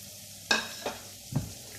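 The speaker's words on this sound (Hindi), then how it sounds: "ये सारे मसाले ये इसमें वापस डाल के इसी ऑयल में इसको फ्राई करेंगे।" Ground peanut spice masala frying in oil in a pan for crispy bhindi, a soft bed of sizzle with three short scrapes or stirs standing out, the first the strongest.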